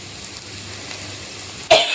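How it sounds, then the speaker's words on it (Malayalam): A person with a heavy cough lets out a single sharp cough at the very end, after quiet room tone in a home kitchen. "ചുമയാണ് ഗൈസ്, ചുമ"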